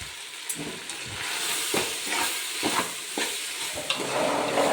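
Okra and masala get stirred in a hot pan, with a series of scraping utensil strokes in a loose rhythm over a constant sizzle, close and fairly quiet.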